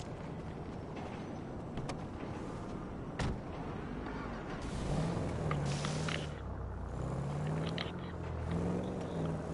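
A car in Grand Theft Auto V makes a steady engine drone and road noise, with a door clunk and some game effects over a dense, continuous mix.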